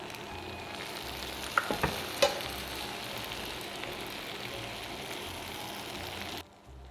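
Continuous crackling sizzle close up as cold syrup hits hot burma baklava pastries with tahini and kadayif, with a few sharp taps early on before it cuts off.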